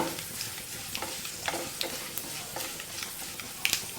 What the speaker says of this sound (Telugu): దోరగా వేయించుకోవాలండి తాలింపుని.